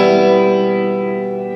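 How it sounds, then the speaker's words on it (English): A flange effect from an Electro Harmonix Cathedral reverb pedal rings out as one sustained, harmonically rich tone that slowly decays, loud and alone. "this is a flange effect"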